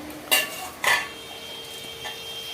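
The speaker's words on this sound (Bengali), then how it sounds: "আমি ঢাকনা খুলে দেখছি" A metal pot lid clanks twice in quick succession while cooking, with a fainter clink afterward in a quiet kitchen.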